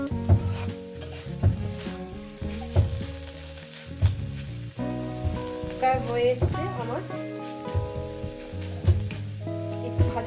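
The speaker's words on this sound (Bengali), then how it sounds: "ওই জন্য একটু ভাজা করে নিচ্ছি" Mashed pumpkin bharta fries in a pan with a steady crackling sizzle, stirred repeatedly with utensil scrapes and clinks against the pan, while someone talks over it.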